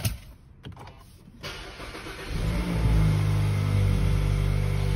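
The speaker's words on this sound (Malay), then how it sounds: "kereta ni untuk bila kita baru start, dia akan bunyi sikit sebab Mazda ni dia punya enjin sikit aktif" A Mazda CX-30 compact SUV engine cranks and catches after a quiet cabin moment, then settles into a steady, fairly loud idle hum that continues to the end.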